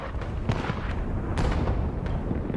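Ship cannons fire in a naval battle in the video game Pillars of Eternity 2: Deadfire, several sharp booming blasts in quick succession over a rumbling low background.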